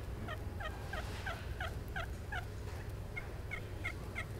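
Soft turkey calls made by hand with a turkey call, mimicking turkeys on the roost early in the morning: a steady series of about a dozen quiet, evenly spaced clucks and yelps with a short pause midway, over a low background rumble.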